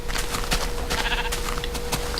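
Sheep bleating in Minecraft, a few short, close, wavering bleats in quick succession with no talk over them.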